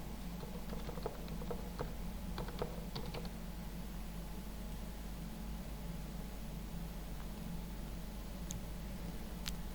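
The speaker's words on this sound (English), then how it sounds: "then we will type in the password" A password is typed on a computer keyboard: a quick flurry of soft, close key clicks in the first few seconds, then only a faint steady hum with a stray tick or two.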